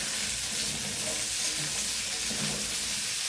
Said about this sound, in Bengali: সবজিটা কি সুন্দর করে ভাজা ভাজা করে নিয়েছি